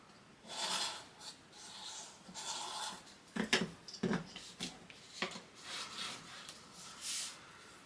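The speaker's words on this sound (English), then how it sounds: "Along the edge of the chipboard, fold it over, burnish it down." Folded paper rubbed and burnished down along the edge of a piece of chipboard during holiday album making: a series of short, dry scraping strokes, close and fairly quiet, with no one speaking.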